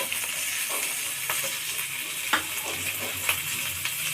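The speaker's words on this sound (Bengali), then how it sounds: "দিয়ে আমি ভালোভাবে লাল লাল করে ভেজে নেবো" Ginger and garlic spice paste fries in a pan while being stirred, for a fish-head and potato dish, giving a steady close sizzle with a few brief scraping accents and no talking.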